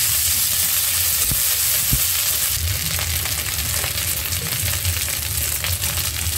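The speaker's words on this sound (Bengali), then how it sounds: "পেঁয়াজটা একটু ভেজে আদা দিয়ে দিলাম" Onion and ginger frying in oil in a pan, a steady close hiss of sizzling with occasional light stirring scrapes and a couple of soft knocks, continuous and fairly loud.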